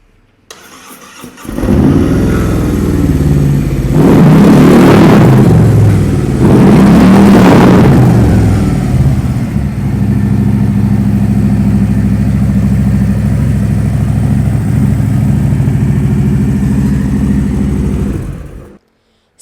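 A 2021 Harley-Davidson Road Glide Special's Milwaukee-Eight 114 (1,868 cc) engine starts up, revs loudly twice, then settles into a deep, steady idling rumble before cutting off.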